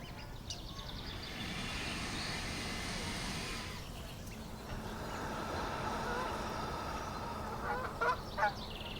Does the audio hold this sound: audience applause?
no